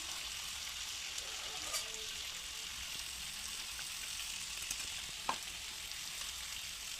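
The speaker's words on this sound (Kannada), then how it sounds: "ನೋಡಿ ಶೇಂಗಾ ಪುಡಿ ಹಾಕ್ತಿದ್ದೀನಿ" Peanut powder being mixed into a dish in a hot pan gives a soft, even frying hiss with faint scraping and stirring and one sharp tap near the end, with no talking.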